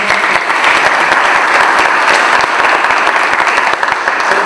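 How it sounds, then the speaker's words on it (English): An audience at an afternoon education forum in Hammond, Louisiana, breaks into loud, sustained applause, dense clapping that holds steady for several seconds with no talk over it. "give Chris Tyson a round of applause"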